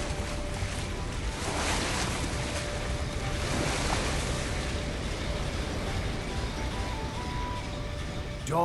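Ocean waves wash steadily around a ship at sea in The Golden Compass video game, a continuous broadband surf with wind, loud and close throughout with no pause.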